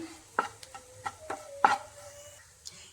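Masala with curry leaves being sautéed on low heat for a Kerala jackfruit curry, with quiet intermittent spoon scrapes and stirring taps over a faint sizzle.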